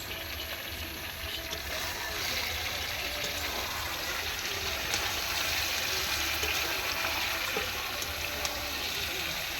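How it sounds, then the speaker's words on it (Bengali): Water is poured into a meat and potato curry cooking over a wood-fired stove, making a steady, continuous rushing splash at moderate volume, with faint background murmurs. "এবারে একটু জল দিলাম"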